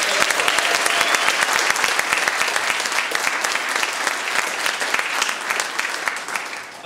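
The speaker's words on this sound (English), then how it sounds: "So let's give them a big round of applause." A crowd at an announcement event for a Hammond, Indiana distribution facility applauds loudly and steadily for several seconds, a dense, sustained clatter of many hands that tapers slightly at the end.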